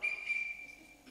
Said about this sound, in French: merci de nous avoir sifflé